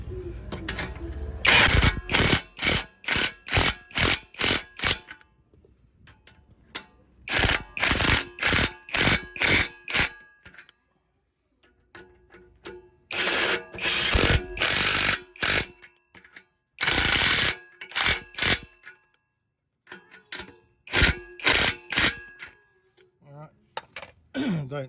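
An impact gun tightens exhaust bolts on a Hyundai Getz during a bellows repair, firing in four loud bursts of rapid hammering rattles separated by quiet pauses, close up.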